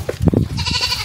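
A goat on a fenced farm property gives a short, close bleat after some brief thumping noise, the wavering cry lasting about half a second.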